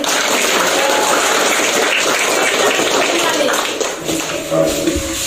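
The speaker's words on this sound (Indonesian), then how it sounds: "Oke, tepuk tangan dulu" A classroom of students clapping together, a steady dense wash of applause that tapers slightly toward the end, with voices mixed in.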